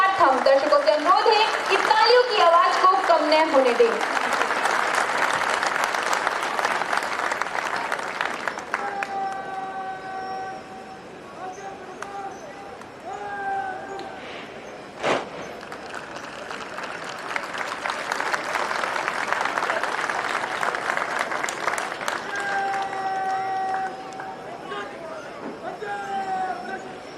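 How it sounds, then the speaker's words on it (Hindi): Spectators clap steadily through an ITBP constable basic training passing out parade at Bhanu, Ramgarh, with loud broad applause swelling, dipping midway and rising again while a crowd murmurs and a public-address voice speaks over it. "दर्शकों से अनुरोध है कि तालियों की आवाज को कम न होने दें।"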